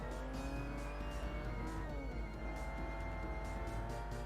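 Race car lapping in a video game, a continuous high engine whine rising and falling with gear changes and brief tire squeal, steady and moderately quiet throughout.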